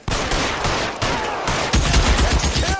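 Loud, dense gunfight from the L.A. Noire video game, pistol and rifle shots crackling in quick overlapping bursts, close and continuous with no pause.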